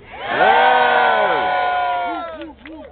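A large crowd at a rally for mass transit and green jobs screams and cheers loudly and continuously, a sustained roar of voices that tapers off at the end.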